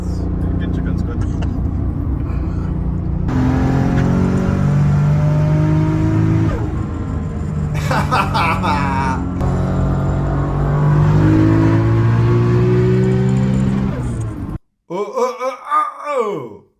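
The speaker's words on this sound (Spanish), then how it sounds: "pero es que está soplando el turbo." Toyota Supra MK4 accelerating hard on the Autobahn, its engine droning and climbing through gears with turbo whoosh, a loud, continuous in-car roar with rising pitch sweeps and a brief gasp near the end.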